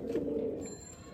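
A pair of tournament pigeons coos in a low, soft, rolling burble, close by and steady throughout with no other voices.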